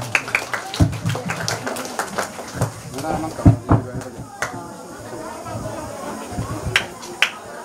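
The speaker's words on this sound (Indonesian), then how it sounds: "tepuk tangan untuk kita semua" A church congregation claps, with scattered, uneven claps that come in bursts rather than a steady ovation, while people talk over them.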